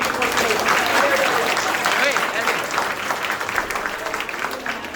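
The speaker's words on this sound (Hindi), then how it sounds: "तालियां बजा के सभी लोग वेलकम करेंगे" A crowd claps continuously and fairly loudly for an election winner at a results announcement. The dense applause fills the moment with no pause.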